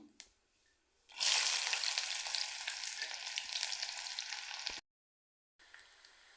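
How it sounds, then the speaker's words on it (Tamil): Mustard seeds, urad dal and onion hitting hot oil for beetroot poriyal, a sudden loud sizzle that hisses steadily for several seconds, cuts out, then resumes more softly. "கடுகு பொரியவும் வெங்காயம் போட்டுக்கிடலாம்"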